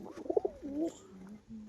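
Racing pigeons cooing in cages give a quick burst of three soft coos, then a longer drawn-out coo, faint and close in a quiet setting.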